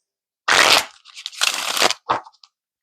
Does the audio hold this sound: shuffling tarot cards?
yes